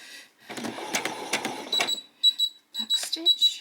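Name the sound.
sewing machine noise during back stitch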